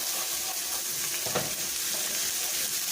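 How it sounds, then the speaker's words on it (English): Steady, dense sizzling of bacon frying in a hot pan, a continuous crackle with occasional faint clinks, no voices. "And the bacon we're frying right here, it is for our beans."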